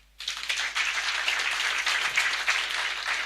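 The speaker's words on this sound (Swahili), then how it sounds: "Wapigieni makofi." A church congregation at a deliverance service bursts into sustained applause after a brief silence, dense clapping filling the space at a steady, loud level throughout.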